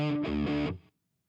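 Distorted electric guitar played through MCM-800 amp simulation with an M1265 cabinet: a short, loud, sustained chord passage with a couple of re-struck attacks, cutting off abruptly into silence.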